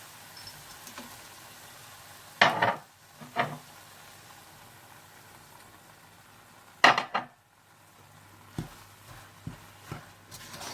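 A spoon stirs chana dal halwa mixed with sugar, dry nuts and dry milk in a cooking pan, giving two clear metallic scrapes and clinks, then a few lighter taps, close and fairly quiet with silence between.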